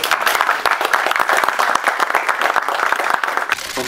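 Loud, close applause from the audience at a special women's football sports event, a busy rapid clatter of many hands clapping unevenly throughout, with no talking.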